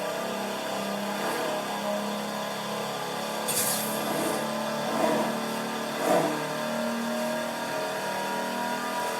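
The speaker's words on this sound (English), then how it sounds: "This actually sounds really good for a stock engine." Stock engine of a Hudson Hornet revving in Forza Horizon 4, a steady mid-pitched engine drone with a few brief swells in revs, heard alone at moderate loudness.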